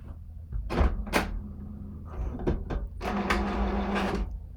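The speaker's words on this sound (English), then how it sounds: "before I press print, I'm going to put my paper facing up on my HP 2755E" HP 2755E inkjet printer feeding and printing on holographic sticker paper, with clunky mechanical door-like thumps and whirring passes, a long steady mechanical run near the end.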